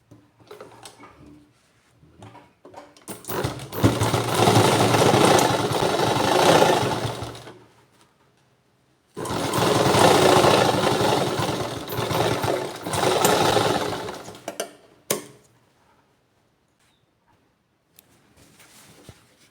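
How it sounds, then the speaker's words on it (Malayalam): Sewing machine stitching fabric runs in two long bursts, each several seconds, with a pause between and a brief restart near the end, steady mechanical whirring close by with no talking. "ഈ ഭാഗം ഇങ്ങോട്ടാക്കിയിട്ട് ഇവിടെ തയ്ച്ചു കൊടുക്കാം കേട്ടോ"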